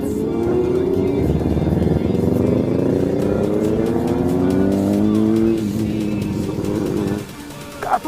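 A 400cc big bike motorcycle engine roars loud and close, its pitch climbing steadily through a long pull before easing off and dropping away near the end.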